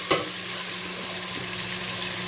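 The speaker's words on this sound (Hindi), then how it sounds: "टमाटर सॉफ्ट होने तक पकाएंगे" Tomatoes and green chilies frying in a pan, giving a continuous soft sizzle with a brief clatter of stirring at the start.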